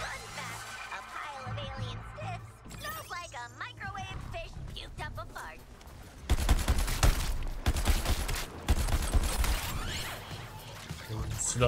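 Gunfire in the video game Suicide Squad Kill the Justice League, rapid bursts of shots packed into a dense volley in the second half, preceded by other game sounds and sharp effects, with voices talking over parts of it.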